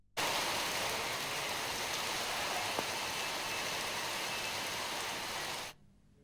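Heavy rain pours down in Hyderabad as a dense, even hiss that fades in, holds steady and close for several seconds, then stops.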